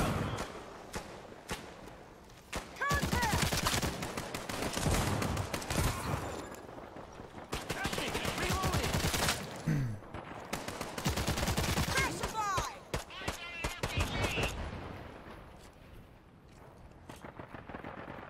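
Rapid automatic turret fire in the video game Caliber, bursts of loud shots repeating in dense volleys with short gaps, some faint voice-like sounds mixed beneath the gunfire.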